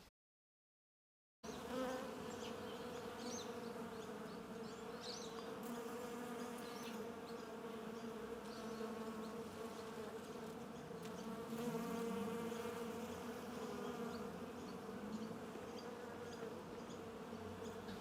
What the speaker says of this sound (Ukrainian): Бджоли дуже зайняті, працюють.